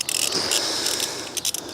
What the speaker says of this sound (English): Let's get the 3 bolts for the vacuum pump back in place